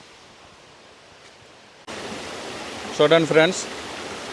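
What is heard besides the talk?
waterfall at Rampa falls, Maredumilli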